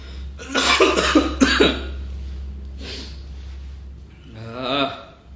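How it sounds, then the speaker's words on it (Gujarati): A man coughs in a short burst of several harsh coughs, then gives a single cough and a raspy throaty sound after a pause, over a low steady hum, close to the microphone. "ઉધરસ બહુ આવે છે"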